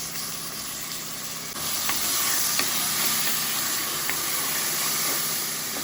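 Curry leaves hit hot oil over a ground masala paste for an Andhra-style egg curry, setting off a close, steady frying sizzle and hiss that jumps louder partway through, with faint clinks of stirring.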